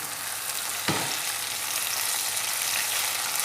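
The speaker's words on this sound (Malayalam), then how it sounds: "നന്നായിട്ടൊന്ന് ഇളക്കി കൊടുക്കണം." Jackfruit mixture being stirred in a hot pan, giving a steady soft frying sizzle with a brief scraping stir near the start, close and continuous with no talking.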